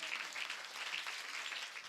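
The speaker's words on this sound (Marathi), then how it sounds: "त्यांच्यासाठी एकदा जोरदार टाळ्या वाजवा." A kirtan audience claps in a steady burst of applause, a dense patter of many hands at moderate distance with no pauses.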